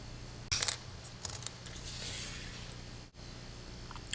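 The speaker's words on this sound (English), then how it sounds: "I'll just use a diagonal cutter" A diagonal cutter snips a plastic Saturn V model kit sprue, giving a few sharp, close clicks over a quiet room background, with one crisp cut followed by a couple of lighter snaps.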